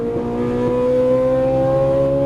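A Ferrari 458 Italia engine revs hard on a track, a loud sustained whine that climbs steadily in pitch through an upshift, close and without voices.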